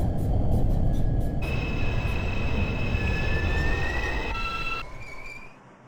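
Subway train in the Openbve simulator, a 2 express running via the 1 line toward 137th Street–City College, rumbles steadily with rising wheel and motor whines that shift in pitch, then fades near the end.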